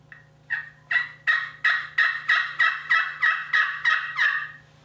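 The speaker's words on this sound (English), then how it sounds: "let's see what the carbon tip striker sounds like on the slate" A slate turkey call run with a carbon-tip striker: a series of about eleven raspy yelps in a steady, rising rhythm, loud and close, with no talking.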